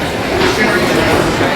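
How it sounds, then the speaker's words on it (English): A Santaland display train runs on Macy's eighth-floor seasonal shop, its steady rolling rumble and faint clatter filling a busy indoor space under a wash of crowd noise. "This is the train that you go through"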